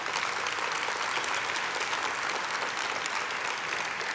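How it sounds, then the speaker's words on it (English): Audience applause at a community appreciation event, a dense steady wash of many hands clapping at full, even loudness throughout with no pauses or voices standing out. "Give them a round of applause, would you please?"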